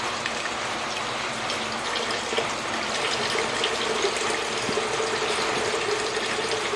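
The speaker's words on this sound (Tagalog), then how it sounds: "ugasan natin yung malagkit na bigas" Water pours steadily into a pot to wash glutinous rice for champorado, a continuous close gushing and splashing stream with no talk.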